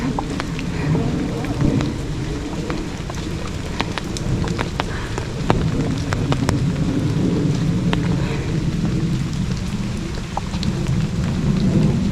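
Heavy rain pours steadily on an outdoor hiking trail during a thunderstorm, with a dense patter of drops, scattered sharp splashes and low rolling thunder underneath.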